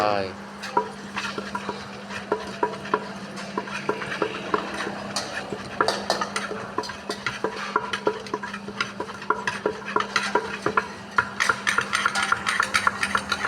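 Lao papaya salad is pounded and mixed, with a mortar and pestle giving brisk, irregular knocks and scraping clatter, close and busy throughout with no speech.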